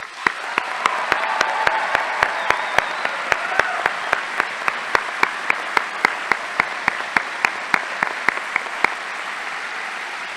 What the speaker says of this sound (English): Please join me in another round of applause to welcome our new class of first-year medical students.